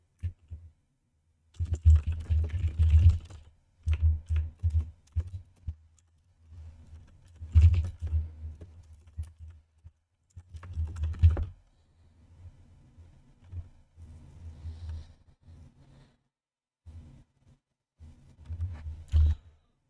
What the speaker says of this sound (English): I'm telling you, it's hard to type for some reason.